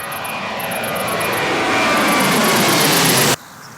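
Propeller airplane engine of the weekly flight serving Wallis island, a steady loud drone that swells slightly before cutting off abruptly near the end, with no voices.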